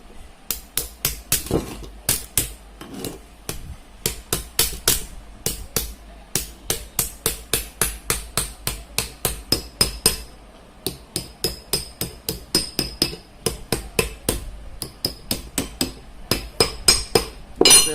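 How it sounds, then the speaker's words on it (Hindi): Sharp metallic hammer taps drive the last lamination sheets into a stabilizer transformer core. The strikes come fast and steady in long runs with brief pauses, loud and close. "ये यहाँ जो बची पत्ती लास्ट में हम इसमें यहाँ डाल देंगे।"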